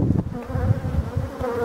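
Honeybees buzz close by at a large hive colony formed after a swarm, a dense, steady hum with small wavering pulses. No talk is heard.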